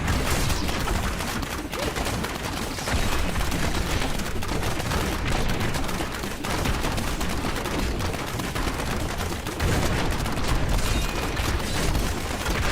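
Demon Hunter grenades in Diablo 3 hardcore play, a loud, dense barrage of rapid explosive pops and booms layered with constant combat noise, continuous throughout without any speech.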